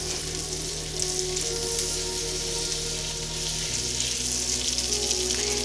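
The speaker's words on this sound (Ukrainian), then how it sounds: "Олія має гарно розігрітися, вершкове масло має розчинитись розплавитись точніше." Oil and butter heating in a pan for plov give a steady, soft sizzle and crackle, heard alone without talk.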